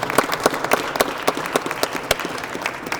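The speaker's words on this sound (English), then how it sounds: "they deserve a huge round of applause in pushing this forward and making this happen" An audience at an esports press conference claps for educators, with sharp, distinct claps rising over a scattered crowd, close and moderately loud throughout.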